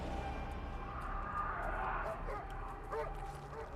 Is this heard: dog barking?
yes